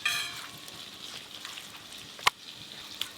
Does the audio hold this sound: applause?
no